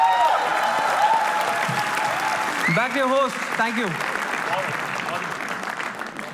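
An audience applauds a comedy roast act with sustained clapping that fills the clip, while a host's voice talks over it.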